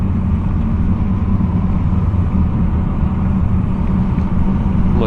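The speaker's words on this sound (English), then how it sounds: "Crack open that window a little bit, hear the exhaust." Steady low engine rumble of a 2023 Mazda 3 Sport cruising along, a continuous droning exhaust note with no talking.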